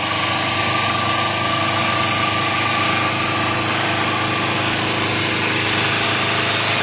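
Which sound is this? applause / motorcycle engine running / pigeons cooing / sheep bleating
motorcycle engine running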